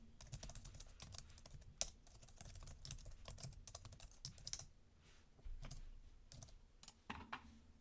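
Typing on a computer keyboard while writing Rust code, quiet close-up key clicks in uneven bursts and runs, with short pauses between flurries and no talking.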